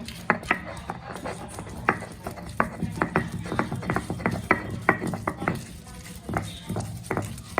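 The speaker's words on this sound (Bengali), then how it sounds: "আমি এখন দিয়ে দিচ্ছি শুটকি, এখন শুটকিগুলোও বেটে নিব।" Dried fish (shutki) is ground on a grinding stone in a steady series of rhythmic rubbing, knocking strokes, close and moderately loud, continuing through the whole stretch.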